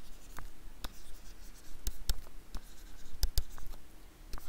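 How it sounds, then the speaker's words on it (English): Pen or marker writing notes during a chemistry lesson, close scratchy strokes with sharp taps scattered irregularly over a quiet room, no voices over it. "we'll write down alkanes"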